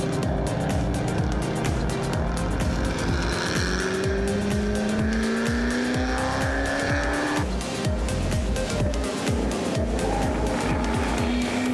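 Classic race car engines roar continuously as the cars speed past on a track, engine pitch rising and falling, with occasional tire squeal, loud and close.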